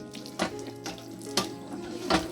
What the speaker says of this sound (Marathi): इकडनं पाणी येतं बघ